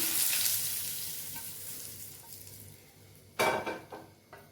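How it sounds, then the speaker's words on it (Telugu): Mustard seeds and curry leaves crackle in hot oil for a tempering, a dense close sizzle that fades slightly before a sharp burst of spluttering and a few clinks of a spoon against the pan. "ఆవాలు, కరివేపాకు తర్వాత పెట్టి దీంట్లో వేసుకొని"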